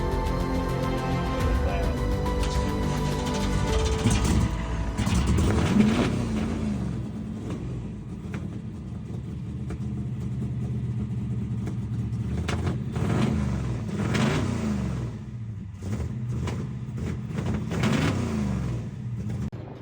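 The big engine of a 1969 Chevy Nova drag race car idles and revs nearby with a deep, lumpy rumble, swelling in a few throttle blips over a steady growl.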